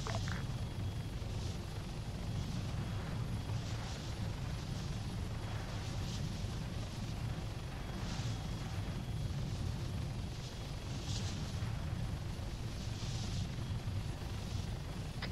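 A helicopter flies steadily in a video game, its loud, continuous rotor thump and engine roar filling the whole stretch at close range, with no voices.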